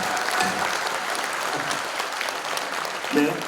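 Party convention audience applauds to pass the platform by unanimous acclaim at the founding convention of a new Korean political party, steady broadband clapping throughout with a louder swell near the end.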